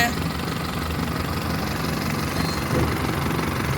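A 2008 Hyundai i10 Era engine idling steadily nearby, a continuous low rumble with faint mechanical vibration and no change in pace.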